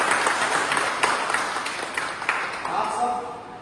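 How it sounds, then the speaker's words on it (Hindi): Audience members at a leadership meeting clap together in a moderate, fairly dense round of applause that slowly fades, with talking mixed in. "इसके लिए एक ताली बजा दिया जाए।"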